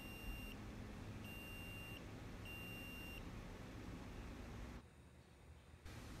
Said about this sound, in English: Now I will demonstrate what the step finishing alarm sounds like after a cooking step in the cooking profile is completed.